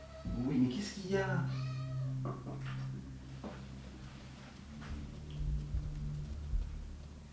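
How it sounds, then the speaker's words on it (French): A cat meows repeatedly, several insistent, wavering calls close by, mixed with a French-speaking person's voice answering it in a castle setting. "C'est fou comme il n'arrête pas de parler, ce chat."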